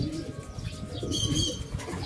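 Racing pigeons cooing in a loft during a race in Tagudin, Ilocos Sur, a soft low murmur that runs through the whole short stretch, close and steady, with faint chirps above it and no talking.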